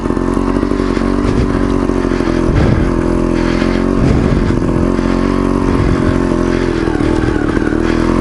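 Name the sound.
motorcycle riding uphill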